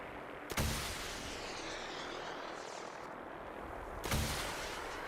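Missiles launch in Fallout 76, two sharp bursts about three and a half seconds apart over a steady roaring whoosh of rushing noise, loud and close with no talk.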